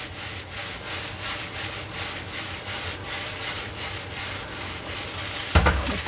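Chow mein noodles tossed in a hot kadai give a steady, loud sizzling hiss with rhythmic scraping and stirring strokes that swell and fade, ending in a sharper clatter, with no voices.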